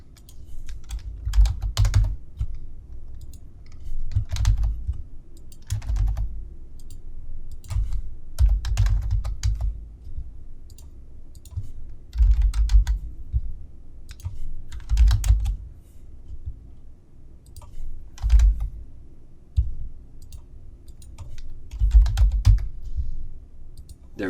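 Fingers type on a computer keyboard in repeated bursts of quick, crisp key clicks separated by short pauses, close and clear over a quiet background for the whole stretch.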